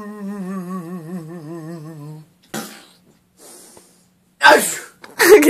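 A person acting out a character gives a loud, close sneeze near the end, after a sustained voiced tone and sharp gasping intakes of breath, with silence between the bursts.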